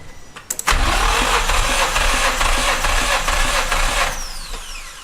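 A Nissan G35 engine cranks steadily on the starter with a compression tester fitted to cylinder 1, a loud continuous churning that begins abruptly after a couple of clicks and runs for several seconds before tapering off.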